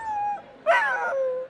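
Dogs at the Westminster Kennel Club dog show in New York City give a whining, whimpering cry with a louder yelping burst in the middle. It sounds close and clear, with no talk over it.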